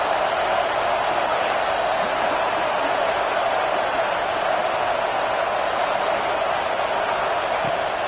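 Crowd noise from a college football video game fills a steady, dense roar behind a third-down play, a continuous wash of cheering with no clear peaks.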